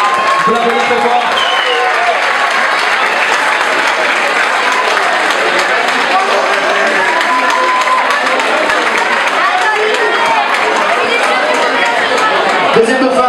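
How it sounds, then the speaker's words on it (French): Sustained applause from an audience at a regional beauty and elegance pageant, steady and loud across the whole stretch, with crowd chatter and some cheering mixed in. "Je vous l'applaudis très fort."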